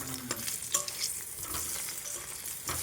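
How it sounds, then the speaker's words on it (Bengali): Quiet sizzle of eggs frying in a pan, with a few soft clinks and scrapes of a utensil now and then. "একদিকে ভাত আর একদিকে ডিম ভাজা হচ্ছে"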